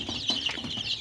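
Young native chicken chicks in a brooder chirp and cheep in quick, overlapping high peeps, close and fairly loud with no voices.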